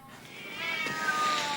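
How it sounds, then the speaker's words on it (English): Cats meowing in a film scene, a cluster of high, drawn-out mews that swell and overlap, growing louder over a faint background. "Cats."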